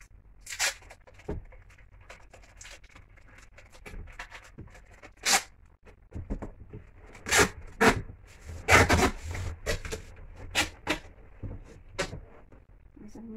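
Double-sided tape being pulled off its roll and pressed down before laying carpet: a series of sharp ripping and rubbing bursts, fairly close, alone and spaced irregularly.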